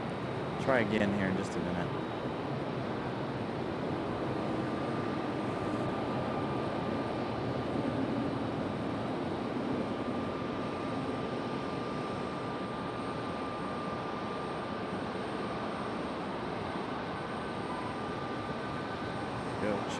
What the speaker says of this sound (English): Off the runway at a pretty high speed, still with the reverse thrust there